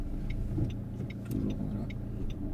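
A manual-transmission car creeps forward slowly during a driving lesson, its engine a low, steady rumble heard from inside the cabin, with faint light clicks on top.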